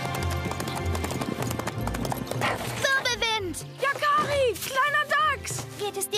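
Horses in a German children's cartoon, with rhythmic hoof clip-clop, whinnies and a dog-like bark over background music, while voices speak.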